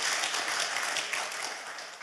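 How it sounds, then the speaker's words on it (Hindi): A church congregation gives a dense, sustained round of applause to welcome a guest, with many hands clapping together in a steady wash of sound that eases off slightly toward the end. "क्यों ना जोरदार तालियों के द्वारा उनको हम स्वागत करें।"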